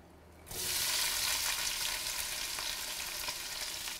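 Onions and garlic hit hot oil in a pot for a Durban curry, bursting into a loud, steady sizzle after a quiet moment, with a dense crackle that holds unbroken to the end.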